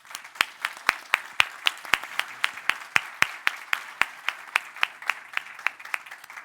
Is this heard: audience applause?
yes